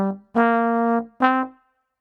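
A short jazz lick on a sustained, harmonically rich instrument built from the pentatonic scale over rhythm changes: three clean notes, one long held tone in the middle, played solo and fairly close, then silence.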